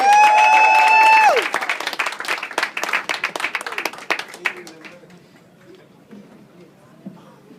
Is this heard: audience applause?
yes